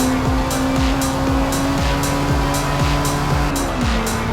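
A 1997 Honda Civic Type R accelerating hard at Laguna Seca in a racing video game, engine revs climbing steadily through repeated quick gear shifts, each upshift dropping the pitch, loud and constant with no talk.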